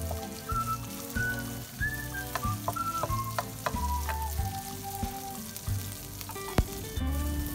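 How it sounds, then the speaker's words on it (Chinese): Sambal with red chillies and dried prawns sizzles steadily in a wok as it is stir-fried, a continuous crackle with light stirring, while a melodic tune plays in the background. "然后炒一炒它，"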